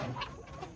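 A Golden Wyandotte hen gives a quick, soft cluck or two, faint and close, in a brief moment with no talking.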